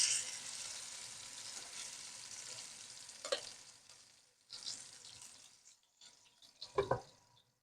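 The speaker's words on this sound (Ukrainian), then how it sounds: "Ну, як завжди, смажимо котлетки." Cutlets sizzle and crackle steadily in a covered frying pan, a soft continuous frying hiss with a few brief louder clinks and pops toward the end.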